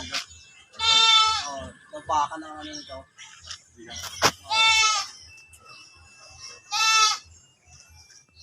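Goats bleat loudly several times, wavering cries close by, with people talking in between and around them.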